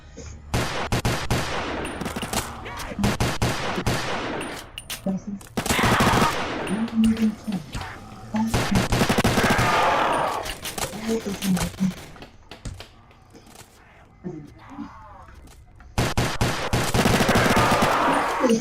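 Rapid machine gun bursts in a video game, loud and close, coming in long repeated volleys with short pauses between them, with a voice talking over parts of the firing.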